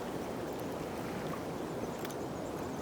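High, fast-flowing creek water rushes steadily in the open, a dense, even broadband wash with no pauses, moderately close and alone without voices.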